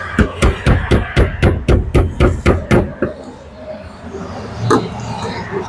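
A fuel pump locking ring is tapped into place in a rapid, even run of about ten sharp close metallic knocks, then a pause and one softer knock.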